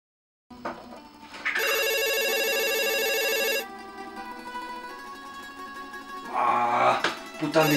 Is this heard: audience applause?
no